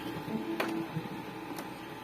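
An Epson 5190 printer runs steadily with a low mechanical whir and a couple of faint clicks, heard alone at moderate distance.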